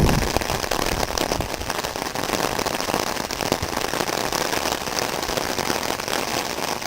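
Heavy rain pours down hard and steady on outdoor surfaces, a dense, loud, continuous hiss with a sharp crackling patter of drops, no thunder present.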